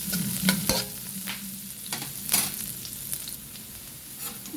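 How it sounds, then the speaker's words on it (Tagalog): Chopped onion and garlic sauté in a hot pan with stirring clatter and a steady sizzle, a few sharp utensil knocks standing out, close and moderately loud with no talking. "Medyo luto na natin sibuyas. At saka yung ating lagyan natin yung lalagyan ako ng bawang."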